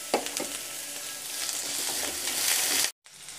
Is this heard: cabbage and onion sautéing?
yes